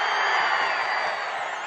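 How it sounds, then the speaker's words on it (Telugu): A crowd at a political rally clapping and cheering, a dense continuous roar of applause and shouting voices, loud and steady throughout. "గట్టిగా చప్పట్లు కొట్టి హుషారుగా ఉన్నామని చెప్పండి"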